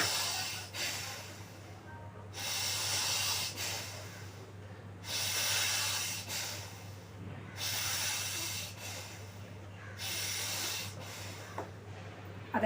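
Slow, steady yoga breathing through the left nostril close to the mic, with long hissy inhales and exhales alternating in an even rhythm, about five cycles, over a low constant hum.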